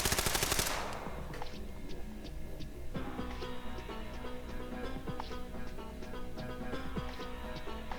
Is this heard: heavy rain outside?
no